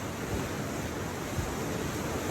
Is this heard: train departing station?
no